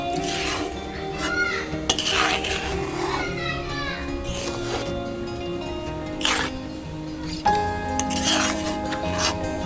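A spoon stirs finely ground broccoli into payesh in a pot, making intermittent scraping, sloshing and sharp metallic clinks against the pot at an irregular pace.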